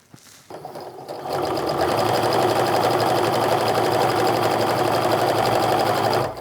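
A sewing machine chain piecing charm pack squares for a Christmas stocking, running loud and steady after a brief start, its fast even stitching rhythm continuing unbroken to the end.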